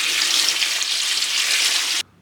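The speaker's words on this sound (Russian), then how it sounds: "Заливаем все как следует водой." Water pours steadily over clams packed in a container, a loud continuous broadband rush that stops abruptly near the end.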